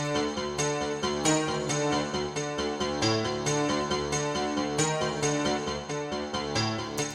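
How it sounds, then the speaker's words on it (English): A piano plays a dark melody in a fast, double-time rhythm, with repeated notes struck in quick, steady pulses throughout, clear and close with no voices. "For the next section, I introduced a different rhythm for the piano."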